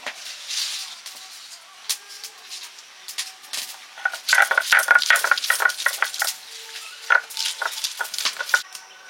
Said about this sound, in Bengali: এবারে মশলা বেটে নিচ্ছি। আদা, রসুন আর যা যা লাগবে।